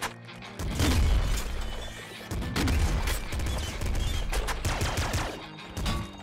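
Cluster launcher explosions in the video game Nuclear Throne, a dense run of booming blasts and crackling bursts that ripple on continuously, loud and close, with brief lulls between volleys.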